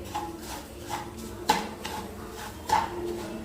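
Banshi semolina being dry-roasted with curry leaves in a pan on a low flame for upma, with soft steady stirring and scraping and a couple of sharper metallic clinks of the spatula against the pan.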